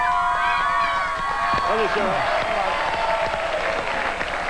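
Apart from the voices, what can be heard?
Cowboys rugby league fans cheering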